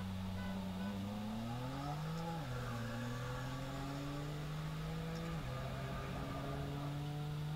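A Nissan GT-R accelerates with rising engine drone, pitch climbing through two gear changes and dipping at each shift, steady and fairly faint.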